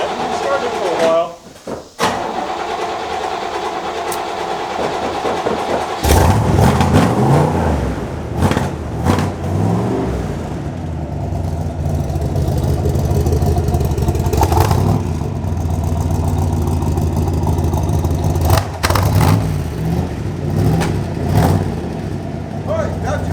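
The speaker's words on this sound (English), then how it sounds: "You got to enjoy the big block engine thumping around." A big block Corvette engine with side pipes rumbles and revs close by with a deep, throaty exhaust, swelling and easing several times while people talk over it.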